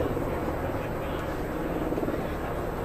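A helicopter flying over Buckingham Palace makes a continuous rumbling rotor and engine drone, moderately loud and steady, with faint voices beneath it.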